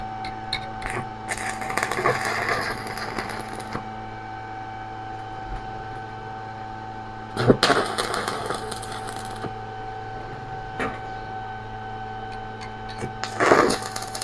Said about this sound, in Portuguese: E agora vai dar o ponto de solda para a gente estar travando ela